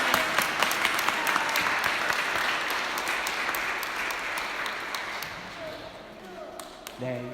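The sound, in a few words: congregation applause as children leave at a church service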